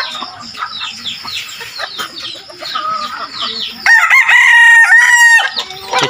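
Chickens cluck and chatter steadily, then a loud rooster crow rings out close by, followed by more clucking.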